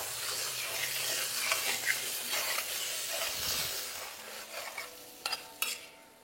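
Potatoes and spring onions stir-fried in spices for a katla fish curry, a steady broadband sizzle with scraping stirring strokes and a few sharp spatula knocks near the end, close and continuous without talk.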